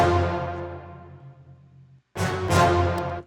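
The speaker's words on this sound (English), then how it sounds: "we're going to use this brass stab" An orchestral brass stab sample in a hip-hop style sounds twice, each hit loud and bright at the attack; the first decays over about two seconds, and after a short silence a second punchy hit lands.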